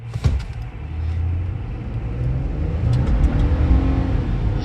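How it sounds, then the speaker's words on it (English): A 2.7L turbo V6 pickup truck, a 2024 Ford F150 or Chevy Silverado, accelerating hard from a standstill toward 60 mph, its engine note rising and building steadily and loudly, heard from inside the cab. "Let's see how it accelerates to 60."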